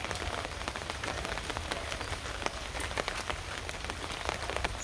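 Steady rain pours down on a surface, a dense, even patter of drops that stays loud and close throughout with no voices.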